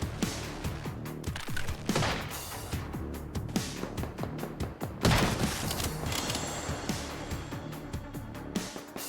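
A turret fires on the player in the Once Human video game, with bursts of rapid gunfire and sharp shots over engine rumble, loud and close, with a heavier blast midway.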